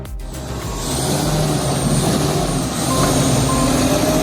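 A heavy 40,000-pound log truck with air brakes gives a loud, close engine rumble under broad hissing noise that swells after the first half second and holds steady.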